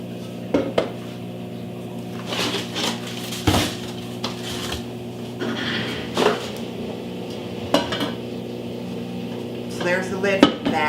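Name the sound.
handling a deep, lightweight Curtis Stone cooking pan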